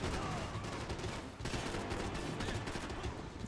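Rapid gunfire from the video game Max Payne 3, dense overlapping shots and bursts filling the whole stretch loudly and continuously, with a brief dip partway through.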